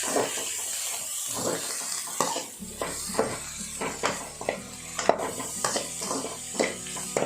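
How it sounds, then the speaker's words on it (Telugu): Green chillies half-frying in a pan, a soft sizzle and hiss under repeated metallic stirring scrapes and taps at an uneven pace, close and fairly loud. "కొద్దిగా పచ్చిమిరపకాయలు వీటిని హాఫ్ ఫ్రై చేయాలి."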